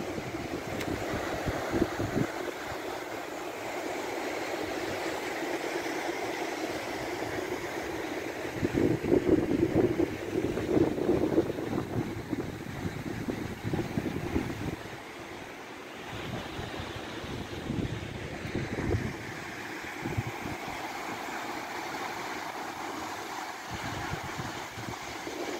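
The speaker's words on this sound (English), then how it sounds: "I'm gonna be quiet and just let you hear the ocean." Ocean waves wash onto a beach below a small beach house deck, a steady broad surf roar with swells building and falling, mixed with wind buffeting the microphone.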